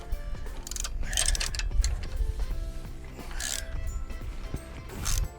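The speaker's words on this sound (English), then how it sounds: "it's going to be super easy for me to just ratchet these guys up" A hand ratchet tightens bolts on a ladder being installed on a cargo trailer, with rapid clicking bursts in uneven runs and some metallic clanks and creaks, close and moderately loud.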